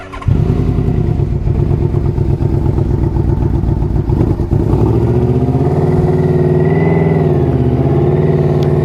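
Yamaha Royal Star Venture touring motorcycle with a 1300cc V4 engine, idling loud and close with a steady low rumble, then a rev change around mid-clip as the engine settles into a smoother, warbling idle.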